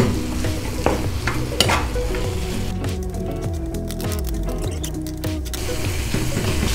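Masala with dried plums for chicken tikka biryani cooks in a pan, giving a steady sizzle and frying hiss broken by scraping stirs, close and continuous.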